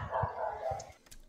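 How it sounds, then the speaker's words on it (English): During a team game session, a dog barks in the background, a few muffled yips and barks spread over a second or so, moderately faint and distant. "There also appears to be a dog barking in the background,"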